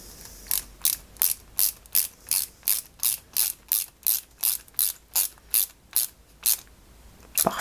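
A small screw driven into a model 1961 London Routemaster RM857 bus, a hand screwdriver ratcheting in a steady run of about sixteen crisp, evenly spaced clicks, close and alone.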